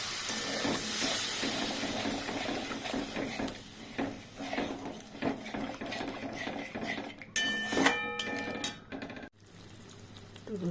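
Water poured into hot frying oil in a pan while cooking a rui fish and pointed gourd dish, giving a loud, steady hissing sizzle that fades, followed by a few clinks of a utensil against the pan.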